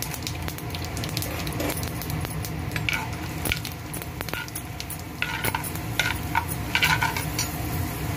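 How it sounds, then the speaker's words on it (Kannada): Mustard seeds crackle and pop in hot oil along with cumin and split chickpeas for a white okra palya, giving a steady close sizzle with scattered sharp pops and occasional utensil clinks. "ನೋಡಿ, ಸಾಸಿವೆ ಸಿಡ್ದಿದೆ."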